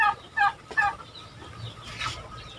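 A male turkey gobbles in quick, rattling bursts, three short calls close together near the start, then fainter fowl noises in a quiet farmyard.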